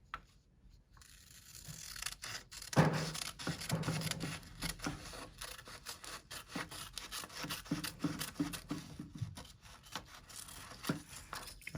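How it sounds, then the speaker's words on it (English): Scissors cut through paper along a marked line for a 3D cube model, a continuous close rasping crunch of snips and sliding blades that runs on for several seconds with no speech. "And rotate, cut the other line."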